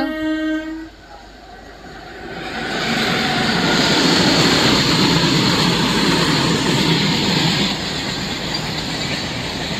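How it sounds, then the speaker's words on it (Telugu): A loaded coal goods train passes near Induppalli railway station, its horn sounding briefly before a loud, sustained rumble and clatter of wagons rolling by close at hand. "లోడెడ్ కోల్ గూడ్స్ అయితే వెళ్తుందండి"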